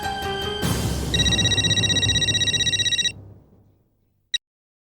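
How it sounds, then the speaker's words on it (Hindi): A telephone ringing tone on a call in a comedy sitcom scene: a steady, loud electronic ring pulsing rapidly for a few seconds, then stopping abruptly, followed by a brief click. "फोन लग गया। घंटी बज रही।"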